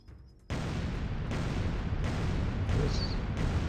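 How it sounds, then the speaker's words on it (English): Explosions in the submarine game Dangerous Waters: after a faint start, a loud, sustained roaring rumble sets in abruptly and continues in heavy, broad waves with a few brief dips, no talking over it. "There's some more explosions."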